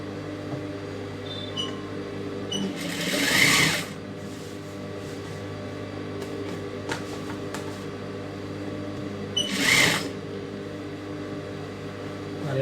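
A sewing machine runs steadily while stitching a silk skirt, its continuous mechanical hum with brief louder bursts of rapid stitching in two short runs, no talking.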